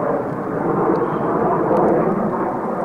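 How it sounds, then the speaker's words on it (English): Military planes passing overhead outside, a continuous loud rumbling roar of aircraft engines holding steady throughout, with faint bird chirps and no speech. "The camera's gonna pick up them airplanes. Military."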